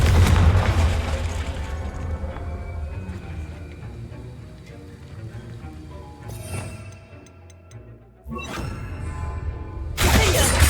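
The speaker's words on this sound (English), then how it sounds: "Confringo!" In the video game Hogwarts Legacy, the Confringo spell goes off with loud booming, crackling blasts and whooshes. A heavy burst opens the clip, more impacts come near the middle, and another loud hit comes at the end.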